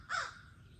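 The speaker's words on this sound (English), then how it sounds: "Listen to that crow calling." A single harsh crow caw rings out, fairly close, then fades into quiet outdoor background.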